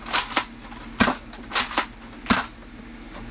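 A Nerf toy blaster dry-fired several times, sharp mechanical snaps and clacks in an irregular sequence of about six close, crisp bursts.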